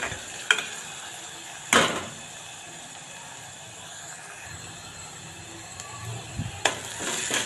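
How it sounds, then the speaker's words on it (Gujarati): Chopped onions fry in a hot pan, a soft steady sizzle broken by several sharp scraping clatters as a spoon stirs them at uneven intervals. "વચ્ચે વચ્ચે ધીમે ધીમે હલાવતા રહેવું જેથી ડુંગળી બળી ન જાય"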